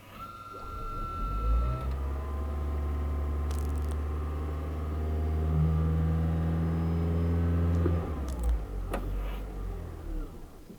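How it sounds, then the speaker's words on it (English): A hybrid car's engine, running in hybrid mode, rises steadily in revs as the gas pedal is pressed, a sustained low drone with climbing tones that holds for several seconds and then drops away near the end, with no talking. "I'm going to step on the gas"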